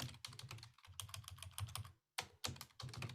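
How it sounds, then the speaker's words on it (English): Rapid, close keyboard typing rattles on almost continuously, with one brief pause before resuming in quick bursts of keystrokes. "So I'm going to type that in here,"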